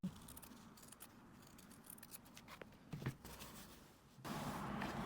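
Scissors snip through an iron-on fabric patch in a quiet room, with a few faint, close cuts and small handling rustles, growing louder toward the end.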